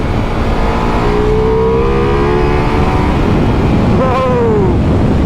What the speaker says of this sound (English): let's give it a bit of a brake test.